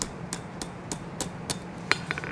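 A blacksmith hammers forged metal on an anvil while making a simple Gothic door knocker, with sharp, evenly spaced ringing blows about three per second and a quick cluster of lighter taps at the end.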